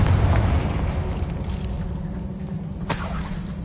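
The Confringo fire spell from the Hogwarts Legacy video game on PS5, a loud booming explosion with a rumbling tail that decays, then a sharp crackling burst near the end.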